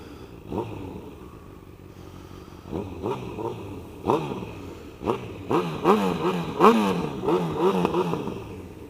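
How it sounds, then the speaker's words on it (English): Honda CB1000R motorcycle engine revved repeatedly while parked, a close, loud series of sharp throttle blips rising and falling in quick succession, with no talking. "Now it's time for some revving."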